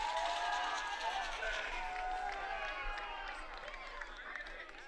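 Knights basketball fans cheering and shouting in a high school gym during a regional semi-final, a steady crowd roar with whistles and voices that slowly fades a little over a few seconds.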